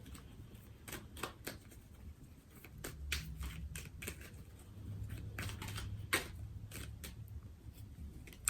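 Tarot cards are shuffled by hand in quiet, irregular bursts of soft riffling and slapping close by, with brief pauses between handfuls.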